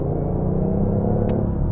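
A BMW i8 hybrid in sport mode pulls hard under acceleration, giving a steady loud engine rumble and car drone with no voices over it.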